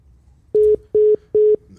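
Three evenly spaced telephone dialing tones, each a steady pure beep of about a fifth of a second, sound close and loud over a quiet background as a podcast call-in line is dialed.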